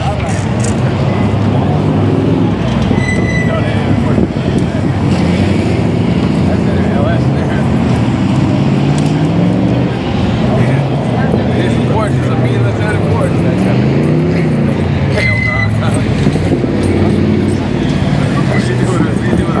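A Porsche engine revs at an outdoor hot-rod car show, its steady loud drone rising and falling amid crowd chatter and nearby talk.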